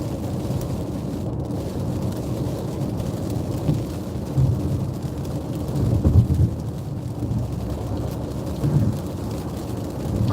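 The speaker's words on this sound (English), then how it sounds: "it's raining down, it's bad weather" Heavy rain pours down in bad weather, a dense steady hiss over deep low rumbles of thunder that swell and fade several times, with no voices heard.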